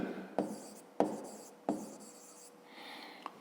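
A pen scratches on paper in short written strokes, with a few sharp taps as it touches down, heard close and quiet during a fifth-grade maths exercise.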